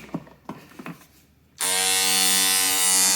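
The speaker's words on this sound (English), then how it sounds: "What about this old little Craftsman detail sander that I have?" An old Craftsman detail sander powered by an EGO battery starts after a few light taps and clicks, then runs as a loud, steady high-pitched buzzing whine to the end.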